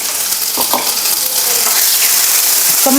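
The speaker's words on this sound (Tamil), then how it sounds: "கொஞ்சமாக கடுகு போட்டு இஞ்சி பூண்டு பேஸ்ட்டு மட்டும் போட்டுட்டு அப்படியே ஃப்ரை பண்ணிக்க போகிறேன்" Mustard seeds and ginger-garlic paste fry in a pan with a steady, close sizzle and crackle, broken by a few soft stirring scrapes, with no talking.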